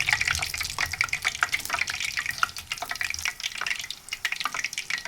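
Chonge batter for Muharram sweets is dropped into hot oil and fries with a steady, dense sizzle of close crackling and popping bubbles that lasts the whole time, with no talking.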